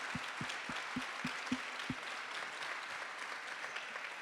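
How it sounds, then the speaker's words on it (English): Audience applause at a Lean In Canada event, a fairly faint, steady wash of clapping that stays even throughout, with a few soft low thumps repeating near the start. "I feel like that answer deserves a big round of applause."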